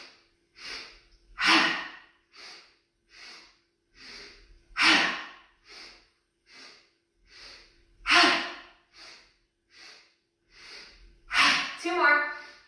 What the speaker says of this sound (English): We're going to inhale, inhale, inhale,